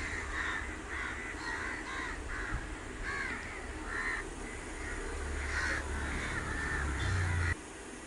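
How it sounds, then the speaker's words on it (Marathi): Several crows caw loudly and repeatedly near a house, harsh overlapping calls in quick bursts over a low steady background rumble, with no talking. "त्याच्यानंतर हे कावळे एवढे ओरडत होते ना"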